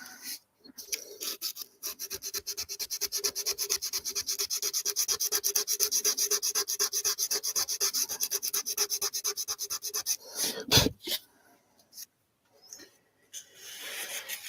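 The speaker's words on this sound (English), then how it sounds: "I need sandpaper. Sandpaper. Where the hell's my sandpaper?" Rhythmic back-and-forth rasping of sandpaper on a surface, dense regular strokes for about ten seconds, then a knock and a few scattered scrapes.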